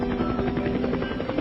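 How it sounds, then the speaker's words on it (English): A Korean War–era rescue helicopter used for medical airlift drones loudly and steadily, its rotor beating in a fast, even pulse close by with no voices. "airlift by helicopter was usually the best rescue option"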